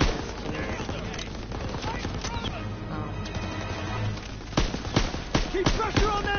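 Dense, rapid machine gun fire and overlapping gunshots ring out in a Call of Duty WWII campaign battle. The firing is loud and continuous, with sharper bursts near the end and game voices mixed into the din.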